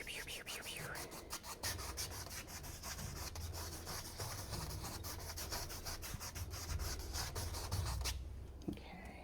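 Bristle brush scrubbing crisscross strokes over an oil painting canvas, a steady run of dry rubbing scratches up close, a faint voice in the background.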